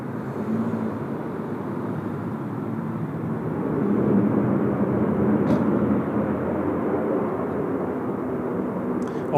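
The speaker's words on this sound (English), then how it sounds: "The A330 in the retro livery from Garuda." A Garuda Indonesia Airbus A330 in retro livery sits on the runway at Sydney Airport, its jet engines giving a steady, broad roar. The roar swells slightly midway and holds at a moderate distance, with no talk over it.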